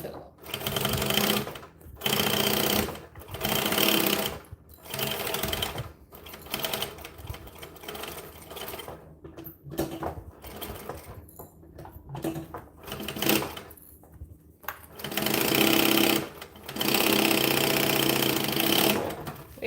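A sewing machine stitches a bag in loud, rapid bursts, running and stopping repeatedly with short pauses between runs, with some talk faintly underneath.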